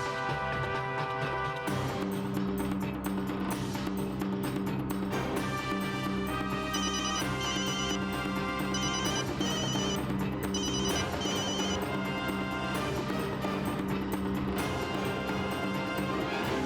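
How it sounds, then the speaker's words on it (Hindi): Phone ringtone playing continuously, a bright melodic electronic ring repeating in short phrases at steady volume, alone without talk. "वरुण, नाहर फोन काट रहे हैं"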